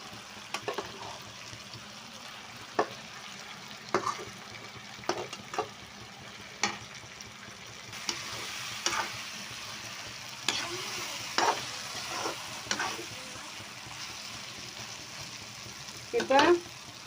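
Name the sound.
eggplant and onion-tomato masala sautéing in oil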